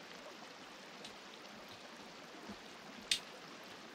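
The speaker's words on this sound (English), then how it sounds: "If I drink straight out of the creek." Flowing creek water in a video game makes a faint, steady trickling wash throughout, with one short sharp click near the end.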